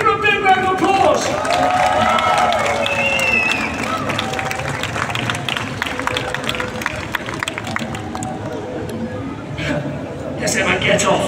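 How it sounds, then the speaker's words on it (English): An audience at a live street escape-stunt show applauds an 8-year-old volunteer girl, with sustained clapping, some cheering and crowd chatter that thins toward the end before swelling again. "Give her a big round of applause"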